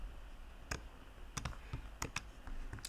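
Typing on a computer keyboard while writing Python code, scattered sharp key clicks in an irregular rhythm, close but faint over a low background hum.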